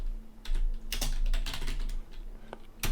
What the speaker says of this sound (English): let's type in kubectl space create